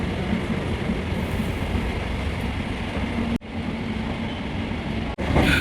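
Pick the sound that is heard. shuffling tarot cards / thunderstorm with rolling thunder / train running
train running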